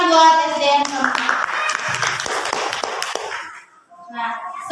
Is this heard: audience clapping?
yes